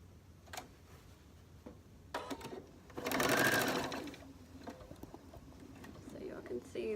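A sewing machine runs a quarter-inch seam joining a large black square to patchwork quilt squares, a rapid whirring burst of stitching lasting about a second, framed by quiet handling clicks.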